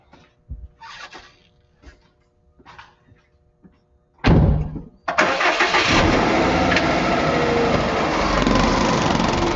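A car engine cranks and catches on an in-ground twin-post lift rack, then settles into a loud, steady run close by. Quieter knocks and movement come before the start, and a voice is briefly heard.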